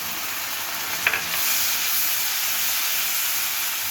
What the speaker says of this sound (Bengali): এখন আমি চিংড়িটা হালকা ভেজে নেব।